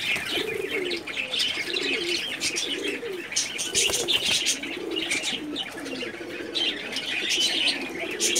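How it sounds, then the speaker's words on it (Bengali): Jak pigeons in a loft give low repeated coos amid bright chirps and an occasional flutter of wings, a busy continuous flock sound with no speech. "এটা হলো জাক কবুতর, জাকদোবাজ ঝাড়দোবাজ বলে আর কি এটাকে।"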